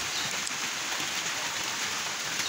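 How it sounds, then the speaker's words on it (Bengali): Heavy rain pours off the roof of a village house, a dense unbroken hiss with a wash of close, steady drops running the whole time, with no voices. "দেখেন কিভাবে বৃষ্টি পড়তেছে"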